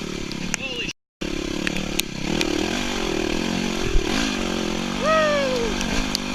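Yamaha WR250R dirt bike climbing a muddy trail in the rain, its engine droning steadily close by with a brief cut and small revs, while a rider's voice whoops and talks over it.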